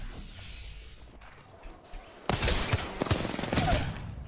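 Gunfire in a video game shooter, a quiet stretch with faint thuds giving way to a dense, loud barrage of overlapping shots and impacts in the final seconds.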